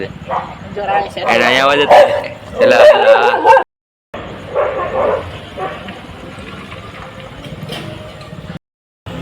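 A pet dog barks and whimpers indoors at close range, with short yips mixed among people speaking to and coaxing it, the sounds coming in bursts under the talk.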